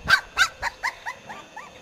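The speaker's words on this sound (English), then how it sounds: "That is my little dog." A small dog gives a rapid run of about eight sharp, yappy barks up close, loud at first and then softer and shorter, with no other sound.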